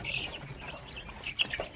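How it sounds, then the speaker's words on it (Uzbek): Imported Leghorn, Dalmatian, Adler, Ukhayuli and Sandy chicks for sale cheep in faint, high, scattered peeps over a low background hum, a few calls standing out near the end. "Narigi xonamiz endi jo'jalarimiz bor"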